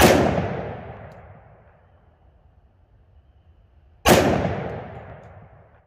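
Two 10mm Underwood Extreme Penetrator 140 grain rounds fired in low light, each a loud sharp crack followed by a long fading echo, about four seconds apart.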